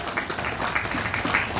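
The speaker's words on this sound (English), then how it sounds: "Please, another round of applause for all our elected officials." Continuous applause from a crowd, a dense steady patter of many hands clapping with no voices, at a county freeholder installation ceremony for elected officials.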